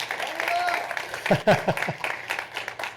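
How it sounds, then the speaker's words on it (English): An audience at a technology conference breaks into brief applause, a short burst of clapping mixed with a speaker's voice, fading as talk continues. "Why don't we give ourselves a little round of applause, all right?"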